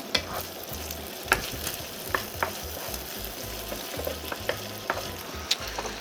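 Steak fries in a pan with a little added oil, giving a continuous close sizzle with scattered sharp pops and the occasional scrape or clink of stirring, and no voices.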